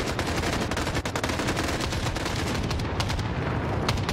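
Gunfire in the shooter game Escape from Tarkov, a dense, continuous barrage of loud shots and rapid bursts that fills the whole stretch without pause.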